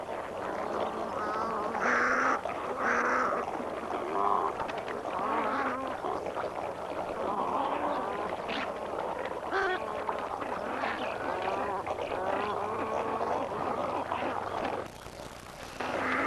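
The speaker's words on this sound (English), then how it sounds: "These magpie geese are searching for tender aquatic plants." Magpie geese call in a New Guinea wetland, overlapping honking and quacking notes rising and falling in a continuous busy chorus over a steady background.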